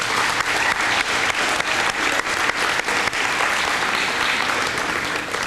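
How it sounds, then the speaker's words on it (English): An audience at a high school fine arts festival claps warmly for Jan Barrett, a steady, full round of applause lasting several seconds with a few louder individual claps standing out. "I'd like everyone to give her a round of applause"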